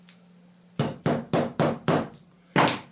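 Six sharp hammer blows set a metal fastener on a handmade tote bag, coming in an uneven series of loud, close impacts with short pauses between them and no talk.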